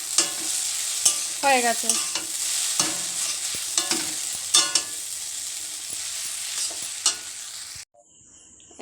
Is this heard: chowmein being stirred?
yes